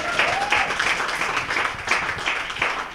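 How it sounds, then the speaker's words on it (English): An audience in a pub applauds with steady, moderately loud clapping that pulses throughout, the sound of a small warm indoor crowd. "Big round of applause for Corey Tangray."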